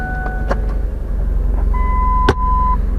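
Car engine running just after being started, a steady low idle rumble close by with a couple of sharp clicks and brief electronic chime tones over it.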